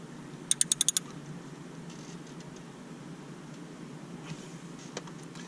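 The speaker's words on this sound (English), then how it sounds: "we'll put the ratchet on it to get a little bit more torque on it" A ratchet clicks quickly about six times, close and crisp, while turning a spark plug on a Hyundai 1.6L turbo engine, followed by quiet background hum and a couple of faint later clicks.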